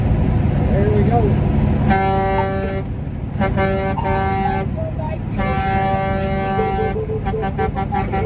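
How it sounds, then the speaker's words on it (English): Vehicle horns blare repeatedly from a convoy rolling through Winnipeg, with long sustained honks and shorter bursts over steady road and engine noise while people talk close by. "You heard me honking."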